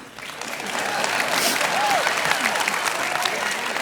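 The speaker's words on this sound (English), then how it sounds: "why are they clapping?" Audience clapping during a talk on dating rules, a steady wash of applause that swells slightly and holds across the few seconds, with a voice briefly audible within it.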